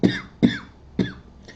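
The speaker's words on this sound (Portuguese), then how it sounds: "Desculpa essa tosse." Three sharp coughs from one person in quick succession, each a short harsh burst, followed by a fainter fourth throat sound, close to the microphone.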